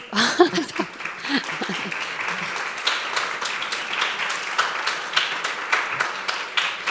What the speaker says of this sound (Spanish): yo os agradezco los aplausos